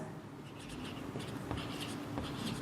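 Pen scratching across paper while writing out a differential equation, a steady run of short scribbling strokes with brief taps, fairly quiet and close, no voice.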